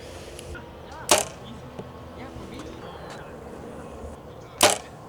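A bow fires arrows with a release aid, two sharp snapping shots about three and a half seconds apart, each brief and fairly loud over a quiet outdoor background with faint insect buzzing.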